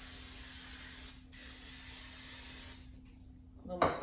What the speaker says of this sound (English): A little more cooking spray, and it's gonna go in the oven looking like this.